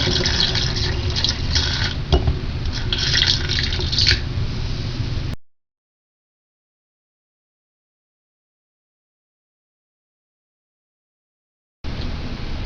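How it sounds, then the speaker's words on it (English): Kombucha poured through a funnel into glass bottles, a steady close trickle and splash of liquid for about five seconds, then silence before the pouring resumes near the end. "and just fill the bottles up."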